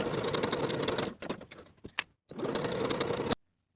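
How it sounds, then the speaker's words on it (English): Sewing machine stitching the underarm seams of a T-shirt sleeve, close and steady running in two bursts separated by a brief pause with small clicks. "Then I'll sew each of those seams with a 3/8 inch seam allowance and press the seams open."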